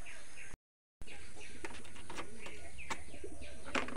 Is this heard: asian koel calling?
yes